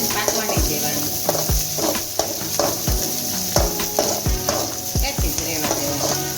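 Cabbage fries in a pan for hakka noodles, a steady sizzle broken by regular scraping thuds of a spatula stirring about once a second, close and fairly loud.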